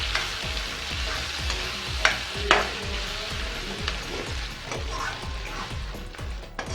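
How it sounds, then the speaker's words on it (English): Tomato and slitted green chili frying in a pan for chicken liver masala, a steady loud sizzle broken by repeated stirring scrapes and a few sharp clinks, with no talking. "and now fry well properly"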